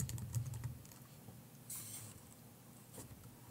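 Someone types on a computer keyboard while renaming a layer in graphics software, producing soft, quick key taps in short irregular runs, close but quiet over a faint room hiss.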